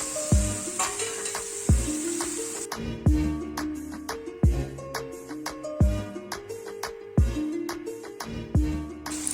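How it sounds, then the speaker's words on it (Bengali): Fried potatoes tossed into spices frying in oil for a Bengali crab curry, with repeated sharp clanks of a spatula against the pan in a steady stirring rhythm over a continuous close sizzle, no talking. "এবার আমি ওর মধ্যে দিয়ে দেবো ভেজে রাখা আলুগুলো।"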